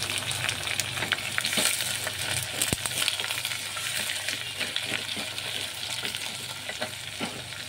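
Sliced onions hit hot oil in a pan for chicken curry, with cardamom, bay leaf and green chilli, producing a dense, continuous crackling sizzle, close and loud, dotted with light stirring scrapes and one metallic tap.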